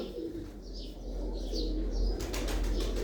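Domestic flying pigeons in a loft at Dheri Khanna coo in a low, steady murmur with thin chirps, then a flurry of wingbeats claps and flutters close by in the last second.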